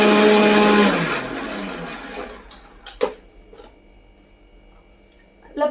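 A kitchen mixer grinder whirs loudly as it blends mango pulp for pudding; the motor runs hard for about a second, then spins down. Scattered clicks and clatter follow as the jar is handled.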